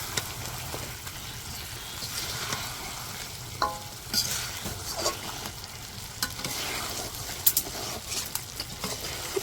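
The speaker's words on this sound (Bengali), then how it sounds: "মাংসগুলো কষাই নিই মশলার সাথে ভালো করে" Buffalo meat frying with spices in a pan, a steady close sizzle with scraping stirs and occasional clinks of a spoon against the pan, no talking.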